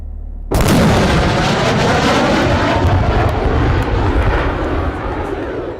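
Jet aircraft passing at the speed of sound: an abrupt loud boom onset followed by a sustained, roaring broadband rumble that slowly fades over several seconds, with no voices.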